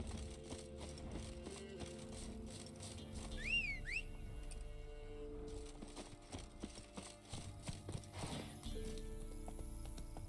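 A horse galloping in The Witcher 3 video game, with rapid rhythmic clip-clop hoofbeats throughout, a brief whinny, and game ambience underneath.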